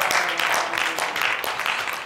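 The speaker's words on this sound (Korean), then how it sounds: "박수 갈채를 보내주고 있는 유럽 팀의 선수들입니다" Players of the European team applaud at a three-cushion billiards match, a steady wash of clapping from a small group, moderately close and continuous over a couple of seconds.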